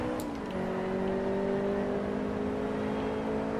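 A race car launches hard from a standstill and accelerates in Forza Motorsport 2 on hard difficulty, its engine note climbing steadily, loud and close, alone without talk.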